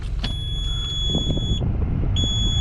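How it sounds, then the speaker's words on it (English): A flatbed straight truck's low oil pressure alarm sounds with the key on, a high steady electronic tone that holds, stops briefly and resumes over low idling rumble and faint clunks. "Anytime the key's on, you get the low oil pressure alarm."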